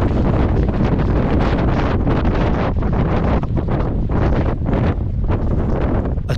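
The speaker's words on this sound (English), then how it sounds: "it was blowing an absolute hoolie" Strong gusting wind roars against the microphone at an exposed wild camping spot open to the southern winds, a loud, continuous buffeting that surges and dips throughout, with no other sounds audible.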